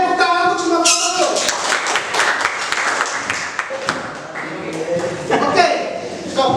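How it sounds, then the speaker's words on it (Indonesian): Students in a school guidance class applaud all the groups, with mixed clapping running under excited voices and cheering throughout. "tepuk tangan untuk semua kelompok."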